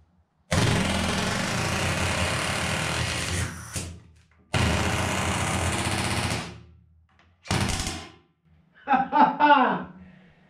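A pneumatic nail gun drives 3 1/8 inch nails into sandwiched laminated wood boards with long, loud, rattling bursts separated by pauses. A short voice sounds near the end.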